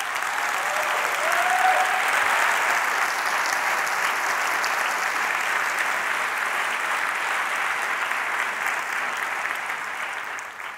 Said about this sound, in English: I'd like everybody to give Louise, Ash, who basically makes this happen, a huge round of applause.